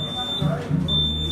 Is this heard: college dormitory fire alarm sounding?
yes